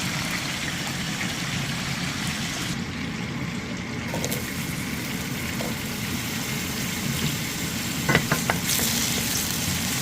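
Milkfish sizzles steadily in a hot pan, a dense continuous frying hiss with a few brief clinks and stirring scrapes near the end, close and fairly loud with no talking.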